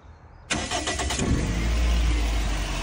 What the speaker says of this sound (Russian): Двигатель работает тихо, хорошо.